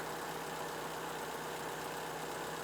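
A Toyota Venza engine idles with a steady, even hum and whir, continuous with no change in pace, fairly quiet and unbroken.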